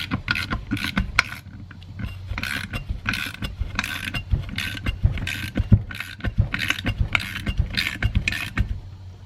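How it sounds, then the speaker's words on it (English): A bolt being tightened down on a punch and flare tool with dimple dies, heard up close as a series of rhythmic ratcheting clicks in bursts, without talk. "The bolt goes through all of them. Then you just tighten it down."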